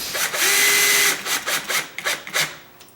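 A power drill on its low setting drives screws while a door gap is adjusted. A close, loud whir runs for about a second, followed by several short, choppy bursts as the trigger is pulsed.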